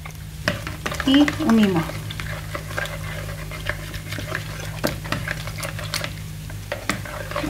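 A whisk beats batter in a bowl while cooking a savory cherry tomato and feta tart, with quick clattering strokes against the bowl in short bursts, and a voice speaks briefly near the start.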